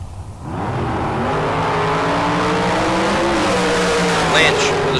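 Drag race cars launch and race side by side at a bracket race, a loud sustained engine roar that builds and rises in pitch as they accelerate, with an announcer talking over it.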